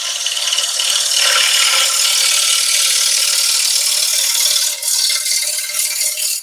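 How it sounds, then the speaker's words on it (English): A bowl gouge makes a pull cut on a spinning wood lathe, giving a loud, continuous, close rasping hiss of steel shaving wood that holds steady for several seconds, with no voices. "So let's just do a pull cut first, just to take off the uneven surface."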